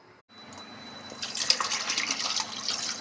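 Broccoli florets rinsed under a running kitchen tap, starting with a faint trickle and then opening into a steady, fairly loud spray of water splashing over the florets, with no voices.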